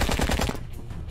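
Gunfire in the video game Empire of Sin, a rapid burst of automatic shots for about half a second, close and loud, trailing into a low rumbling echo.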